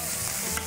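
Pork chops sizzling in a hot pan, a dense, steady crackling fry throughout, close and even.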